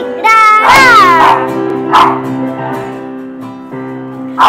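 A dog in a family home barks and yips in several sharp, whiny bursts with short pauses between them, close and loud, with no talking over it.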